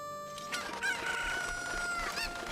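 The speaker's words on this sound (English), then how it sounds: "There's another chicken." A rooster crows and clucks in the Zelda Ocarina of Time video game, a bright drawn-out call rising over a soft game background, with a second shorter crow near the end.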